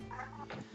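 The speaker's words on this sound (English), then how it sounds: "Cat noises." A cat lets out a faint, drawn-out yowl in the background of a tabletop role-playing game session, one brief wavering cry in a quiet room.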